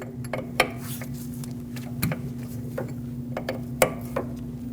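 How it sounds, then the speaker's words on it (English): A 10mm wrench cracks loose the bleeder screw on a rear brake caliper of a 2006-2015 Lexus IS250, giving a few sharp metallic clicks and ticks spread over a steady low hum. "Use a 10mm wrench to break this bleeder screw free."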